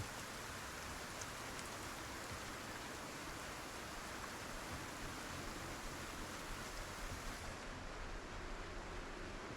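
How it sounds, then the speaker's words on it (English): Rain falling in Project Zomboid, a steady dense hiss of heavy rainfall that continues unbroken throughout, soft and alone. "See, now it's raining harder."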